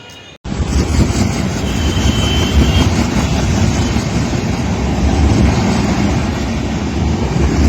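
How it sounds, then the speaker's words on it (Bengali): Loud, steady rumbling roar of a train running along the railway near Malda, sustained and close throughout after a brief quieter opening, with no talk over it. "তো গাইজ একটা ট্রেন আসবে কিনা এই রাস্তা দিয়ে, তো তোমাদেরকে ট্রেনের ভিডিওটা দেখাচ্ছি"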